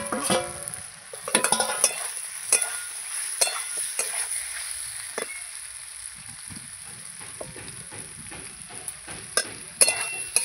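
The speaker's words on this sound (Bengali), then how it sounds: "এই যে আমি পটলটা দিয়ে ভালো করে নাড়াচাড়া করে নিচ্ছি" Pointed gourd being stirred and tossed in a frying pan, with a steady sizzle of oil and scattered scrapes and clinks of a spatula against the pan, close and fairly loud, no talking.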